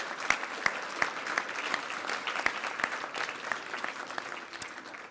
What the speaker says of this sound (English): please show our appreciation with a round of applause